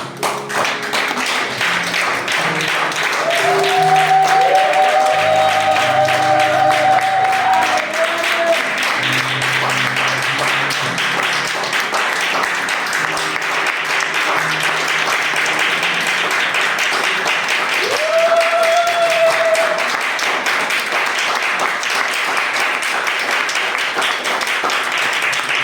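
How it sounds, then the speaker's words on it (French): A church congregation applauding its pastor, a dense, steady roar of many hands clapping throughout, with a voice and brief musical tones rising faintly above it. "nous allons acclamer très fort pour le berger de la maison"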